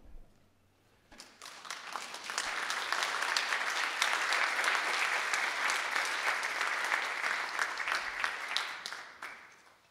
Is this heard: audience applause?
yes